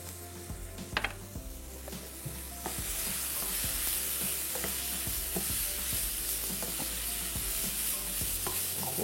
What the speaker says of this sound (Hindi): खूब अच्छे से इसको आप भून लें।